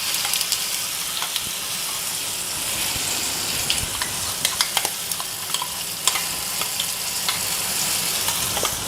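Chutney mixture poured into hot oil with crackling tempered mustard seeds, giving a steady loud sizzle and frying hiss with scattered sharp pops throughout.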